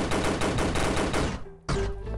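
Gunfire in a prison escape video game: a dense burst of rapid automatic shots lasts over a second, then a short lull, then another loud volley begins.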